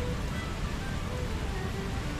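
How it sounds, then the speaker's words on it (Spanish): Steady rain falling beside a swollen river in Chile, a continuous broadband hiss with a low rushing rumble underneath, unbroken throughout and with no voices. "está lloviendo sin frío"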